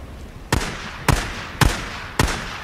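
Four sharp, loud gunshots in the Days Gone video game, evenly spaced about half a second apart, each a hard crack with a short echoing tail, with no talking.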